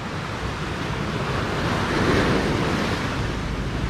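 Pacific Ocean surf rolls in with a steady broad wash, swelling as a wave breaks midway, with wind noise on the microphone and no voices.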